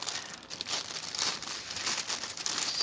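A mail package holding cross stitch kits is torn and opened up close, giving a continuous crinkling of plastic and paper with sharp tearing rips, loud and steady with no talking.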